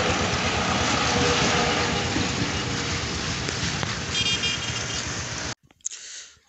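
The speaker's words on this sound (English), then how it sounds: "Start up the bike." A motorcycle built from scrap parts runs steadily nearby with a constant, rough mechanical roar for several seconds, then cuts off abruptly into near silence.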